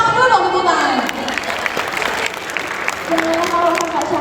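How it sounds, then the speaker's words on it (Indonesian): Audience clapping erupts at a university expo at Universitas Muhammadiyah Jakarta, loud and continuous, with amplified voices and a host's chatter running over the applause. "Tepuk tangan dulu, tepuk tangan."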